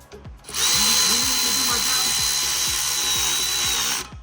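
A power drill fitted with an 8 mm socket spins car bolts during an Acura RSX AWD conversion, whirring loudly and close for about three and a half seconds with a steady high whine and rhythmic ratcheting clicks underneath.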